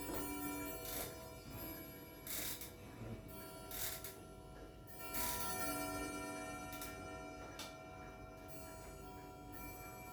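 A 1925 French Vedette dual chime clock ticking steadily at close range, its regular tick-tock running under a faint hum of room noise with a few louder mechanical clicks along the way.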